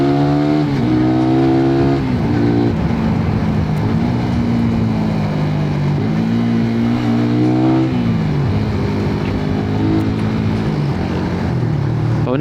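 Motorcycle engine revving hard and climbing through gears with clutchless shifts, loud and close, its pitch rising in sweeps and dropping briefly at each shift change.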